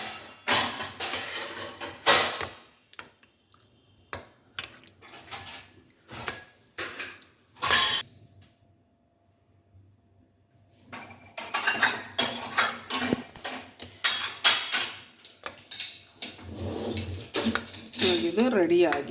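Pumpkin raita with salt, tempering and coriander leaves is stirred in a bowl, giving irregular close clinks and scrapes of a spoon against the dish, then a quiet pause before more clattering resumes.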